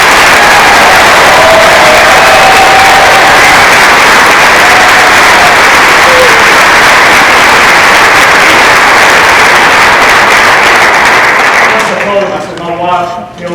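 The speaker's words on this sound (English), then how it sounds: "So please give them a round of applause." Sustained loud applause for band students at a school county band concert, a steady wash of clapping from a large audience lasting about twelve seconds before fading out.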